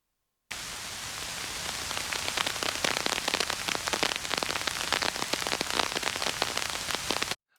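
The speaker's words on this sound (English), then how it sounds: "you're going to hear it transition from just rain ambience to actual raindrops on top of an umbrella." Video game rain sound effect of raindrops pattering on an umbrella, a dense, steady hiss with many sharp individual drop taps, starting abruptly and running continuously before cutting off, with no voices.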